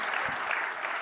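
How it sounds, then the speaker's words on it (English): Applause from an interview audience greeting the champion Khabib Nurmagomedov, a dense, steady wash of many hands clapping at close range throughout the brief moment. "Give a round of applause, guys"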